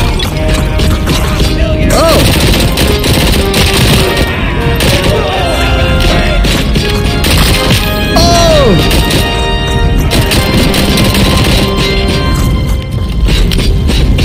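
Rapid gunfire, crashes and impacts in the video game Robocop: Rogue City, loud and dense throughout, with game music and players talking over it.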